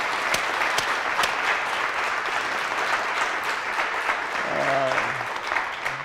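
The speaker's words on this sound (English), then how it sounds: "let's start them off with a big round of applause" An audience gives a steady round of applause to welcome artists Laurie Simmons and Chloe Wise before their conversation, dense clapping throughout with a few louder nearby claps and a voice briefly rising near the end.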